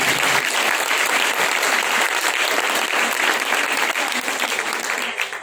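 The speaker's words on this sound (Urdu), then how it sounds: "زوردار تالیاں۔" Loud, sustained applause from a church congregation at a Christmas gathering, a dense wash of clapping filling the whole stretch at steady volume and tapering slightly at the end.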